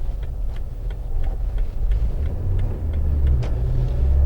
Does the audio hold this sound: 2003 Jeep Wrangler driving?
yes